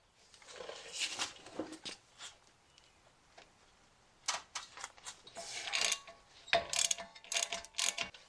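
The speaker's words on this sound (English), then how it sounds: "If you have a breaker bar, this is where you're going to want to use it." A breaker bar works loose the ball joint bracket bolts on a Jeep Wrangler JK with Dana 30 and Dana 44 axles, making faint intermittent metallic clicks and clanks in short bursts separated by quiet pauses.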